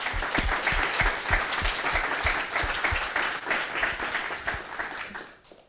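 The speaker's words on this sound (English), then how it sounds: "Round of applause, please." Audience applause for panelists at the close of a groundwater and nature-based solutions discussion, a dense, steady clapping that fades out near the end.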